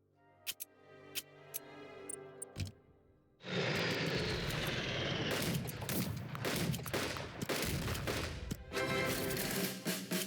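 Bomber aircraft attacking Brussels in the Unity of Command 2 strategy game: a few sharp clicks, then a loud sustained roar of plane engines and rapid explosions that rolls on for several seconds and fills the sound.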